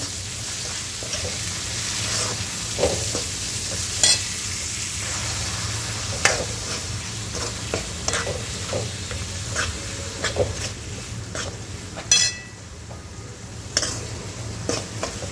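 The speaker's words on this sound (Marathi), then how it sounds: "ही डाळ छान परतून घ्यायची आहे कांद्यामध्ये" Dal stir-fried with onions in a pan for a Vidarbha-style dal kanda, giving a steady close sizzle under repeated scraping strokes of a spatula, with a louder clatter near the end.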